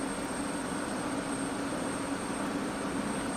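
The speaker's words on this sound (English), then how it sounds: "So you can hear those engines kicking in" An F-16 Viper's jet engine spools up during startup in the DCS World flight simulator: a steady, dense roar with a thin high whine running through it, continuous and fairly loud.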